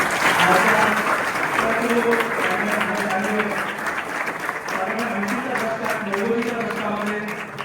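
Sustained applause from an audience honoring Marathi poet Indrajit Bhalerao at a lecture event, a dense steady clatter of many hands clapping that stays loud throughout, with voices murmuring underneath.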